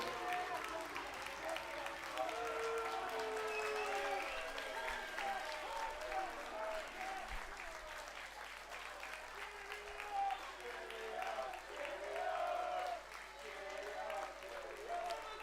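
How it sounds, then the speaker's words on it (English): Faint applause from Atherstone Town fans for a substituted player at a Coventry United versus Atherstone Town football match, distant and low under a commentator talking steadily throughout. "Gets the applause of the Atherstone fans, certainly not the Coventry fans."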